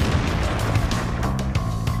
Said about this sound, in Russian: Фугасный разбросает куски взрывом.